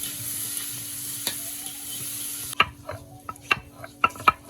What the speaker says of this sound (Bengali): হলুদ দিয়ে নেড়ে দেওয়া হলো কিছুটা